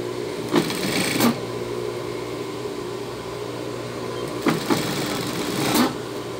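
A sewing machine stitches a denim skirt with a steady mechanical whir up close, broken by a few brief louder clacks as the fabric is worked.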